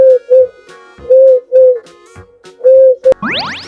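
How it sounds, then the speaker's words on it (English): Dove cooing in a series of loud, close, soft hooting notes with short pauses between them, followed at the end by a brief rising electronic sweep. "This is a dove."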